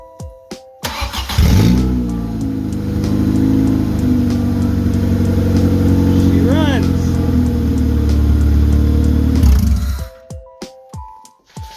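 A car engine, its motor removed from the vehicle and wired to a battery by jumper leads, cranks and starts, then idles loudly and steadily for about eight seconds with a brief rev before shutting off.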